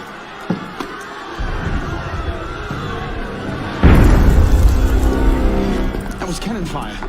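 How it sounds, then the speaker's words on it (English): Cannon fire booms in the Assassin's Creed Unity video game, a heavy blast landing midway after a quieter stretch of crowd noise and voices, followed by sustained rumbling, with talking under it. "That was cannon fire."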